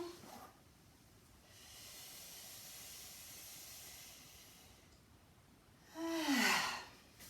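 A deep breath during a stretching exercise: a long airy inhale swells for several seconds, then after a pause a louder, breathy exhale with a voiced edge, like a sigh, close and alone.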